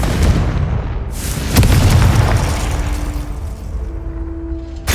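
The Confringo fire spell bursts into a booming explosion in the Hogwarts Legacy video game. A second blast follows about a second and a half later, and each one fades into a rumbling tail.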